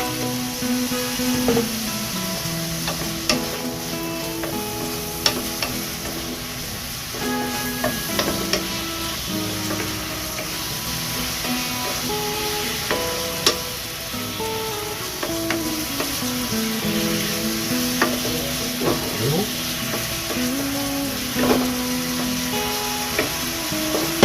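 Pork and saba banana stir-fry with soy sauce in a pan, sizzling steadily with repeated scraping and clinking of a spatula, close and moderately loud, no voices.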